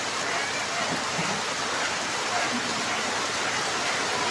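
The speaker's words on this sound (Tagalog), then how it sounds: "nabutan tayo ng ulan" Rain pouring steadily on a construction site, a dense even hiss of falling water with no gaps, fairly loud and close, with people talking faintly underneath.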